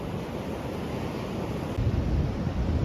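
Rough open-sea waves break and wash continuously onto Ladies Mile Beach in Limassol, Cyprus, with steady wind rumble across the microphone, growing louder and heavier toward the end.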